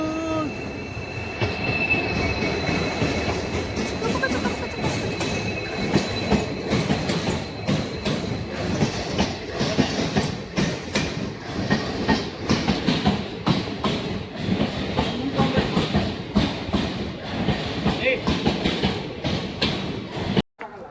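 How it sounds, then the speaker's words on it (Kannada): A train bound for Bagalkote rolls into the station close by, wheels clattering and squealing on the rails with rhythmic thumps, a long continuous rumble lasting throughout. "ಈಗ ನಮ್ ಟ್ರೈನ್ ಬಂತು"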